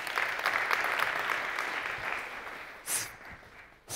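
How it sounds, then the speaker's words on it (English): An audience claps steadily, a dense patter of applause that holds for a few seconds, then thins out. "Round of applause for Sven."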